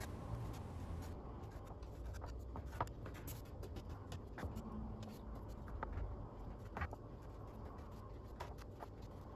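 A sharp knife slices baklava into classic diamond pieces, cutting right to the bottom of the tray, giving a steady crisp scraping with small clicks over a constant low background hum.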